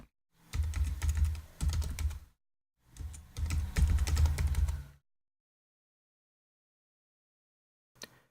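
Computer keyboard typing while setting up a password hint during a Windows 7 install in VMware Fusion: two close bursts of rapid keystrokes, each about two seconds long, then silence and one last isolated click.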